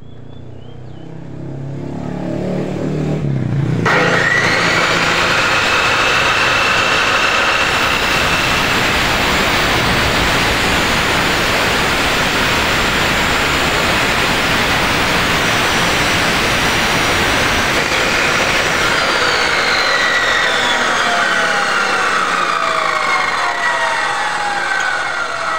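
An Allefix 14-inch 2200 W electric cut-off saw spins up from quiet to a loud, steady high-pitched motor whine and keeps running at constant speed, with no talk over it.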